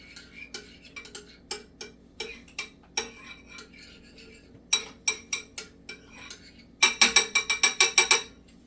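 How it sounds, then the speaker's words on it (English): A utensil stirs gravy in a pan, making sharp clinks and taps against the metal in an irregular rhythm. A fast, louder burst of clatter comes near the end, close and clear. "Let's stir our gravy."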